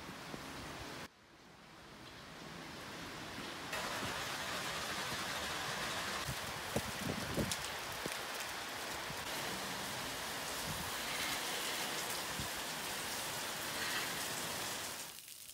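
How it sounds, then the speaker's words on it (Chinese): A sudden heavy downpour in Guangzhou pours steadily onto surfaces, a dense, loud, continuous rain hiss that swells after a brief quieter start and stays heavy throughout, with no voices. "晴朗的天空忽然间就下起了倾盆大雨。"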